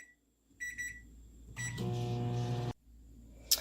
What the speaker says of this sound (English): you're going to stick that in the microwave for 55 seconds